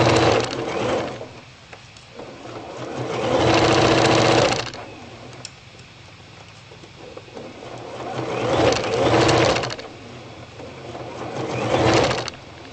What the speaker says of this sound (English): go ahead and sew this all the way down